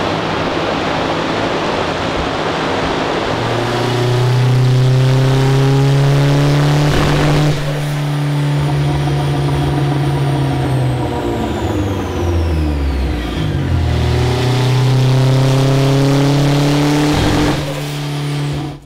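Mitsubishi 4G63 engine on a dyno at 25 PSI boost with the swirly exhaust removed, holding a loud sustained drone, dipping and rising again mid-run before pulling hard once more, with no talk over it.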